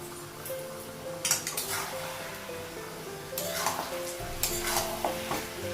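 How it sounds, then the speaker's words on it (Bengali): Meat fries with chili powder and spices in a pan, a crackling sizzle swelling in bursts as it is stirred and scraped, with a faint tonal hum running underneath. "মশলা দিয়ে মাংসটা কষে নেবো"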